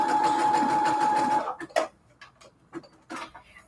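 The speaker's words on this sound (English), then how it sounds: "I liked this sewing machine because it was pretty much just like my old one." A home sewing machine runs steadily and loud for about a second and a half, then stops, followed by a few scattered clicks and light handling sounds.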